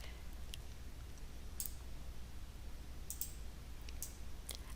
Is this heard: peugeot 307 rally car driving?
no